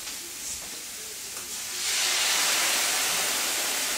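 Beef, 800 grams, and onions sizzling in a hot pan, a moderate hiss that swells to a louder, dense, steady sizzle halfway through and holds there, with no talking.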